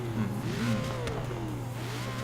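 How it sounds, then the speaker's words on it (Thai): A deep V8 Ford Mustang engine in the video game Forza Horizon 3 hums and revs, its pitch rising and falling a few times, fairly quiet and steady with no voices. "ฟังเสียงเครื่องยนต์ V8 ครับ"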